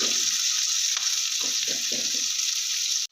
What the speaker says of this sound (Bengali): বেশ লাল করে আমি পেঁয়াজ আর রসুনটা ভেজে নিচ্ছি